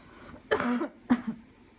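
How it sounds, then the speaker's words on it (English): Two short, harsh coughs, a longer one followed by a sharp second, close to the microphone in a quiet room. "just a minute, I really have to cough."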